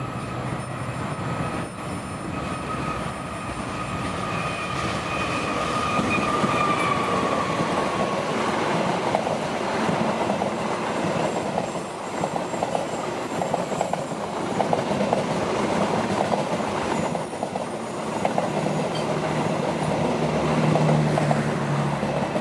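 The Indonesian Matarmaja passenger train rolls steadily past at Bekasi Timur, a loud continuous rumble of wheels and carriages with rhythmic clatter and occasional squeal throughout.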